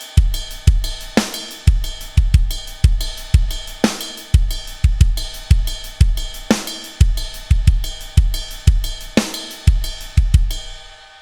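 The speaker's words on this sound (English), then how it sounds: "you can start moving your right hand to the bell of the ride and your left hand for the grace notes only to your hi-hat" A drum kit groove with the right hand on the ride cymbal bell and left-hand grace notes on the hi-hat, bright bell pings over kick and snare in a steady repeating pattern, close and full.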